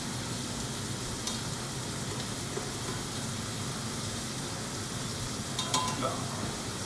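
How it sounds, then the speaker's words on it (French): Shallot and garlic frying in a pan, a steady broad sizzle that runs throughout with a few faint clinks near the end, no voices. "L'échalote et l'ail sur le côté de votre poêle."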